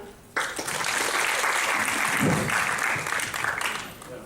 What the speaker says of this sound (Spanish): así que un fuerte aplauso, Imanol.